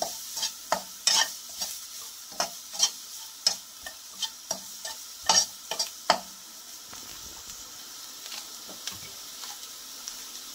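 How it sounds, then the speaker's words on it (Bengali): A spoon scrapes and taps a pan in quick repeated strokes over a soft, steady sizzle of spices, onion and garlic frying in oil, then the stirring stops and only the faint hiss remains. "মশলাগুলো আমি তেলের মধ্যে ভেজে নেব।"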